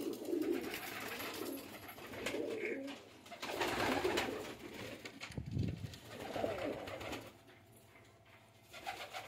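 Pigeons coo in soft repeated throaty phrases from close by, several birds overlapping at moderate loudness, with some rustling and shuffling between calls.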